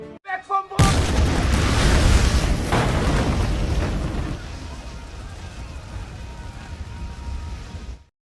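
A partisan-planted bomb explodes at night in the war film Generation War, a few short thuds, then a sudden loud roaring blast that slowly rumbles and fades away.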